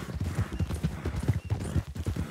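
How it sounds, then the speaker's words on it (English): Horse hooves clip-clopping at a steady walking rhythm, loud and close, with each hoof strike sounding distinct. "My horse is coming."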